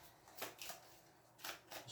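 A deck of cards is shuffled during a solo board game, giving a few quick soft riffling bursts heard close up and faint against a quiet room.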